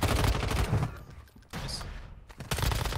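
Rapid automatic gunfire in the Warzone Mobile game, loud close bursts of fast shots at the start and end with a brief quieter gap between, no voices heard.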